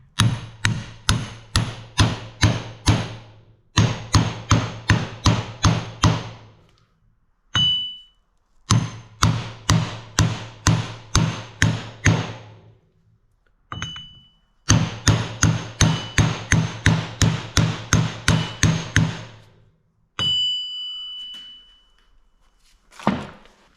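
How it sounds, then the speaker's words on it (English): Hammer blows drive an oil seal on with a socket during a JCB Loadall 530B final drive repair. Loud, sharp metallic strikes come in rapid evenly spaced runs of about ten, separated by short pauses and a few lighter taps. "Just using another perfectly sized socket to drive that on"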